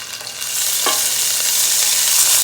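Butter sizzling steadily as it melts in a hot pan while making creamy chicken Dijon, a close, even hiss with faint clinks from a utensil, no talking.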